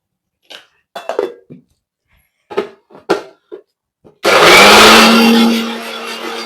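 Mixer grinder whirring loudly and steadily as it grinds soaked fenugreek seeds into a smooth paste, starting suddenly after a few soft clinks and handling knocks and running strong to the end.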